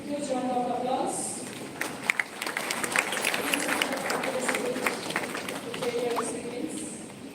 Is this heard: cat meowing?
no